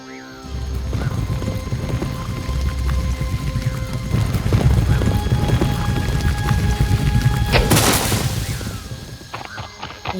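Galloping hooves drive a fairy-tale horse ride, loud and continuous under a swelling music bed, with a bright crash-like burst near the end.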